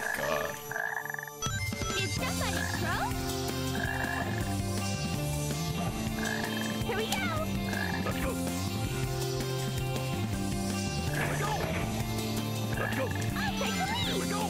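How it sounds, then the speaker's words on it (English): Frogs croak in repeated, rhythmic calls in the video game Sonic Heroes, loud and continuous over layered game music. "there's a frog over there"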